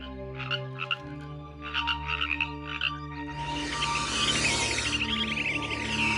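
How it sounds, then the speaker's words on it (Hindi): A frog held in a snake's mouth croaks in distress in rapid, harsh bursts, becoming louder and more frantic halfway through over a steady humming background. "मेढक डर के मारे घबरा कर चिल्ला रहा है"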